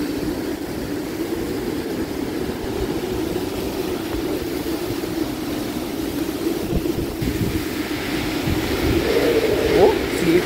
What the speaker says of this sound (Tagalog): Lakas ang hangin ni Bragyong Uwan. Sumisipol.